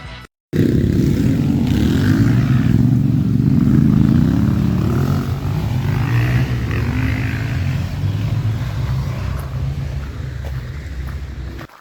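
Loud motorcycle engines revving and droning through a forest trail, a steady close roar that stays heavy throughout with shifting throttle, heard while hiking, with no talk.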